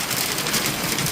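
Dense, hissing downpour of unseasonal hail and rain in Badlapur, a constant roar of falling ice and water striking surfaces at close range, with no voices.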